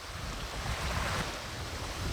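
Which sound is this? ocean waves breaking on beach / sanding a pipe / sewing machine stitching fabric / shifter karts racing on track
ocean waves breaking on beach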